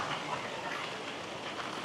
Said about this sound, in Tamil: மழை திடீர்னு கூடுது, திடீர்னு குறையுது.